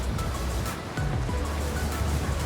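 Wind and waves at sea off Graciosa in the Canaries make a steady, close broadband rush with low rumbling surges and buffeting gusts throughout.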